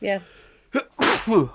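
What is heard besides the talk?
sneeze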